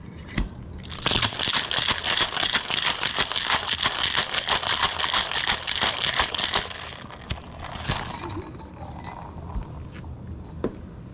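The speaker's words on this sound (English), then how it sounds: "I put the ice in the container I'm about to use. Dump it into the shaker" Ice dumped into a cocktail shaker while making an elderflower piña colada: a dense, sustained clatter and rattle of cubes lasting several seconds, loud and close, then tapering into a few scattered clinks.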